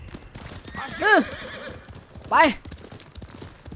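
A horse in the Ghost of Tsushima game gives two loud whinnies about a second apart over a steady clip-clop of galloping hooves, with someone speaking Thai quietly underneath.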